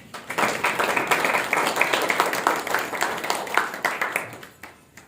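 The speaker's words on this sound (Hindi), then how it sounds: "एक बार सबके लिए ताली बजा के हम" Congregation clapping together in church during a New Year worship service, a lively burst of many hands that holds steady for several seconds, then thins out near the end.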